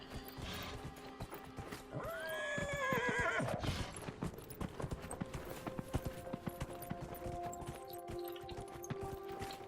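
A horse in the video game Dragon Age: Inquisition whinnies loudly with a rising, harmonic neigh early on, followed by steady clip-clop hoofbeats and game-like ambient music in the background.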